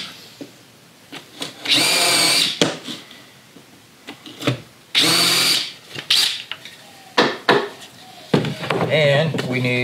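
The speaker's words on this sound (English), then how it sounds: "I'm gonna countersink them from this side because we're coming in with the bottom" Power drill countersinking screw holes in wood, in several bursts of a few seconds each with pauses between, close and fairly loud, plus clicks and handling noises in the gaps.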